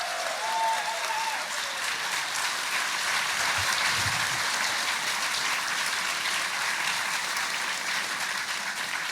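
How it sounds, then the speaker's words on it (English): A live comedy podcast audience in Manchester claps and cheers. The applause is loud and sustained, with dense crackling hands that last the full length and no speech over it. "Let's give him a round of applause."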